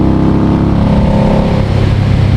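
A motorcycle riding on the road just ahead, its engine a steady, fairly loud drone with a low rumble mixed into continuous road and wind noise.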